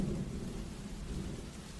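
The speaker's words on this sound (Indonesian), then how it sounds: "sampai sini malah hujan lagi" Rain falls steadily in a thunderstorm, a dense continuous hiss with a heavy low rumble underneath, unbroken and fairly loud with no voices.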